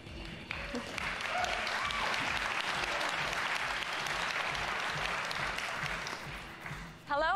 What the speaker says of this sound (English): Thanks for the warm applause.